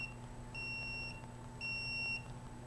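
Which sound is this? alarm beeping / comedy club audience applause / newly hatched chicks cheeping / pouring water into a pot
alarm beeping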